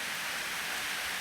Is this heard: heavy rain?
yes